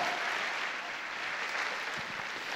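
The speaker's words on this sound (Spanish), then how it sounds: "Dele fuerte ese aplauso a Dios." Church congregation applauding during a Sunday sermon, a moderate, steady wash of clapping heard from within the crowd, with a few louder low thumps near the end.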